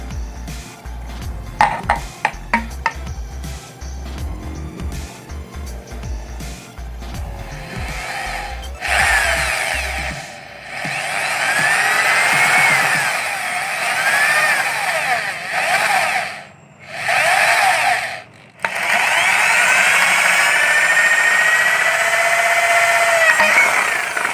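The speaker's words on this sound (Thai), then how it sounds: "เจาะรูด้านหลังนี่อีก" Power drill boring a hole in a plastic oil suction line, heard as loud sustained high-pitched whirring bursts broken by short pauses, after a stretch of rattling handling noise up close.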